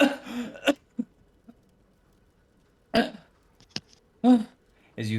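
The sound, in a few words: person imitating a body coughing and gasping for air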